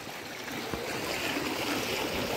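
A river stream rushing nearby outdoors, a steady broadband wash of flowing water heard alone without talk.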